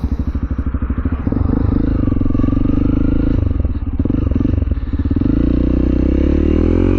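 A Honda CRF300L motorcycle with an aftermarket Black Widow exhaust idles with a rough, loud, lumpy exhaust note, then revs up and drops back a couple of times, close by.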